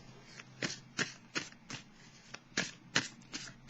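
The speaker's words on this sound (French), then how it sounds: "Je vais piger maintenant une carte." Tarot cards are shuffled by hand, a steady series of close riffling bursts about every half second, then a card drawn from the deck, with no voices.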